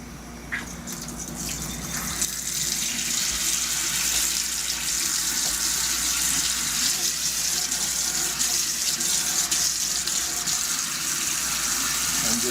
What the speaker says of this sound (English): got the water back on